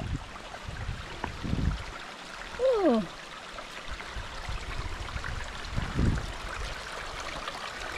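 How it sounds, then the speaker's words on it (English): A stream at an Appalachian Trail water crossing in New York trickles and gurgles steadily in the background, with a few low thuds of footsteps and a short vocal exclamation over the flow. "This is the first water crossing in New York."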